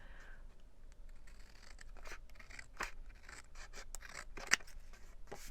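Soft, close scissors snips and paper rustling while trimming a red page for a brick-wall peekaboo scrapbook project, a quiet irregular series of short crisp cuts.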